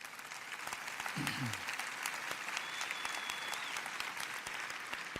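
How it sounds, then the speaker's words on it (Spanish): A church congregation applauds steadily during a Spanish-language sermon, a dense, sustained wash of many hands clapping at even loudness throughout, with a brief low vocal murmur near the start. "Dale un aplauso a Dios."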